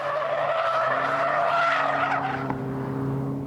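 A Ford SportKa supermini, tuned with an extra 25 bhp, is driven hard with its tyres squealing in a sustained, loud skid over a steady engine drone.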